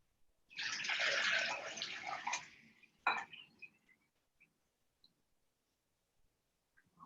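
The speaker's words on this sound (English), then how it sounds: "I'm gonna pour it back into my measuring cup" A honey and tea mixture is poured back into a measuring cup, giving a couple of seconds of close, splashy liquid pouring, then a sharp clink and a few small taps as the cup settles.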